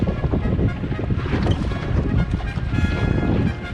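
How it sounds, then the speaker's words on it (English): Choppy waves slap and rush against a mini electric tug boat crossing a ferry track, with wind buffeting the microphone in a loud, continuous wash. "We're going to fight these waves, woo, all the way over, across the ferry track."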